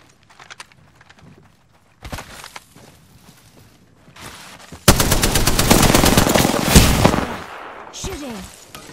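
Rapid automatic gunfire in a battle royale video game, loud sustained bursts after scattered single shots and footsteps, with a voice talking over the action.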